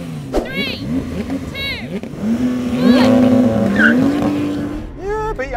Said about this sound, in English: Yeah, beat Yanni off the line